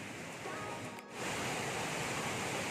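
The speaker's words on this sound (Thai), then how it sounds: "น้ำตกภูกระทิงครับ" Phu Krating waterfall roars as a constant broadband rush of falling water, loud and close, with a brief dip near the middle before the flow noise swells again.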